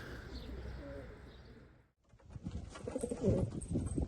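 Elvan pigeons in a loft give soft, low cooing calls close by, with muffled rustling and a brief quiet gap midway, then louder cooing and shuffling.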